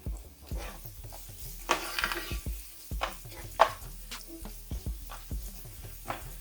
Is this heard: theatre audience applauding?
no